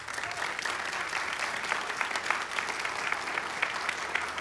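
Church congregation applauding during a building presentation, a dense, even stretch of many hands clapping at a steady level throughout.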